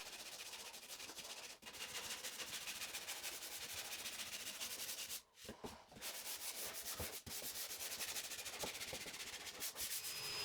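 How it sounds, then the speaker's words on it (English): Bent 2x4 wood is sanded smooth to remove router marks, giving a continuous close-up rubbing hiss with only brief pauses between passes, with no voices present. "Finalize with a bit of sanding, removing any router marks or imperfections"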